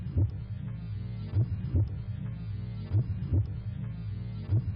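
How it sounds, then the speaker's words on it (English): A steady heartbeat pulses in a video game, soft low thumps in regular paired beats repeating about every second under a faint hum. "I hear the heart beating though."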